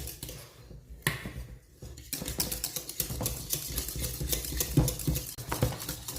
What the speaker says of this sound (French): Il faut vraiment la fouetter énergiquement.